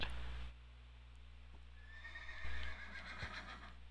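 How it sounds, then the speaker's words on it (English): A horse whinnies in a survival video game, with a loud snort at the start, then a long drawn-out neigh followed by clip-clopping hooves. "Oh yeah, Master Chief on a horse."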